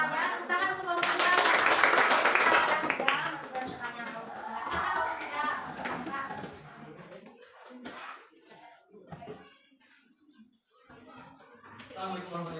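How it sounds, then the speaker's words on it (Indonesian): Classroom applause for a student group breaks out as a dense burst of clapping that fades after a few seconds, followed by children and others talking. "tepuk tangan untuk kelompok 3"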